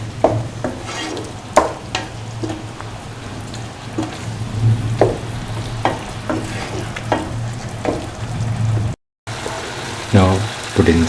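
Dates being cooked down and crushed into a paste for a sweet and sour pickle, with repeated stirring and scraping knocks in a pan over a steady low simmering sizzle, close and fairly loud.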